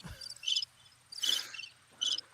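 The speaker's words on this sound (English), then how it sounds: "You need the crickets sound effect on your little doodad." Cricket chirping sound effect played on a small device: three bursts of rapid high trills spaced about a second apart, clear with quiet gaps between.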